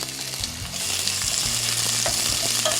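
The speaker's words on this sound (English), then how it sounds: "we just want these to start sauteing a bit, and they're going to release a nice little flavor" Sliced white onions sizzle loudly and steadily in extra virgin olive oil in a pan, with a few soft knocks as they are tossed and stirred, and no voices.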